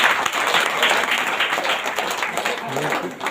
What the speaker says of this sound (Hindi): इसलिए आप लोग तेज ताली के साथ परमेश्वर को धन्यवाद